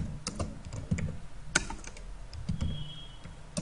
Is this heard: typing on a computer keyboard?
yes